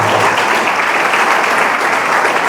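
Sustained applause from a church congregation during a Pentecostal sermon, a steady dense wash of clapping filling the room from start to finish, loud and continuous with no voices standing out.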